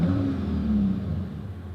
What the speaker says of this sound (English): So when you put it in race mode, it has a subtle change in note.